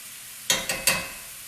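Mushrooms brown in a hot pan: a low, steady sizzle is broken by three quick, close scraping bursts as they are stirred, with no talking.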